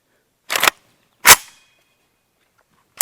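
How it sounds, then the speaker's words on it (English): Gunshots from an AK-74 fired through an oil filter used as a makeshift suppressor: two sharp, loud cracks about a second apart, each with a short decay, then the start of a third at the very end. "testing out the myth of whether or not an oil can suppressor can actually suppress as well as a real suppressor"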